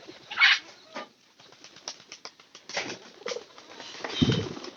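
Pigeons cooing softly in a loft, with a couple of bursts of flapping wings and low throaty coos near the end, heard close with no talking.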